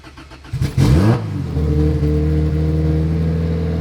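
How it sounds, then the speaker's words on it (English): A Honda Civic EG coupe cranks and fires up, revving briefly before settling into a steady, close idle. "I'm going to turn on Big Red for y'all and give it a couple of accelerations so you guys can hear it"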